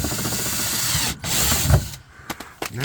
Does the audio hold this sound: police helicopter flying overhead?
no